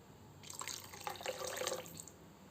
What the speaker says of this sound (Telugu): ఇప్పుడు నేను వాటర్ యాడ్ చేస్తున్నాను